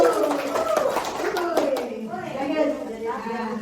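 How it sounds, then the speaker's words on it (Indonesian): A group of teachers claps in a short, rhythmic burst at a training session, overlapped by voices and children's speech, with the claps fading into talk in the second half. "Tepuk tangan Bapak Ibu."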